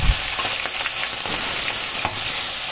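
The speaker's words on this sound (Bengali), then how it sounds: "এবার মাছগুলো একে একে আমি ভেজে নিচ্ছি" Tangra fish, rubbed with salt and turmeric, fry in hot oil in a kadai with a loud, steady sizzle. Light stirring clinks sit close up over the hiss.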